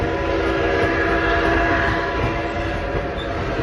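A train hauled by steam locomotive 765 rolls steadily along the rails on an excursion, a loud continuous rumble with a sustained horn-like tone over it.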